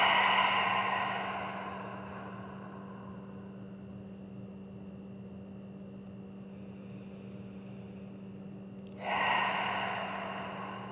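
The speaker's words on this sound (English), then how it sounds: "bring attention back into your breathing" Slow, audible breaths during a guided stretching session for low back and hip pain: a long airy exhale fades into a quiet pause, then a fresh inhale begins near the end.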